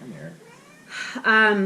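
A house cat excited by an open window gives several close, rising meows, the last one loud and drawn out, while a person speaks briefly.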